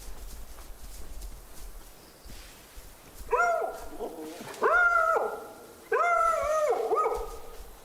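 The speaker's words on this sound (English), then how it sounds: "I do like the sound of the dog." A hunting dog in the video game Way of the Hunter 2 gives several loud, drawn-out barking howls in quick groups, rising and falling, over a quiet outdoor ambience.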